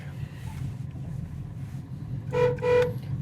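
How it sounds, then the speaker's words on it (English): Two short horn honks from a 1969 Chevy Camaro sound near the end, following quiet engine rumble and ambient noise. "Horn works."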